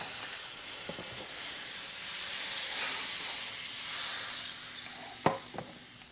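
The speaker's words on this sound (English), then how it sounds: "I'm just gonna put about a tablespoon or two in here. We're just gonna deglaze this pan." White cooking wine splashed into a hot pan to deglaze it while making shrimp and grits, a soft steady hiss of steam with a couple of sharp utensil clinks near the end.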